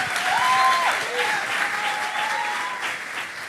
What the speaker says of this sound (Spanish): le damos un aplauso al Señor por su vida